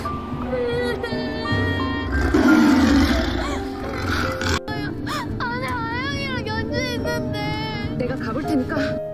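A tiger roars in a scene from a Korean historical film set in a royal palace, a loud close roar building early then giving way to frightened voices and cries over a tense score.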